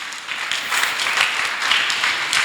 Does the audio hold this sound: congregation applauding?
yes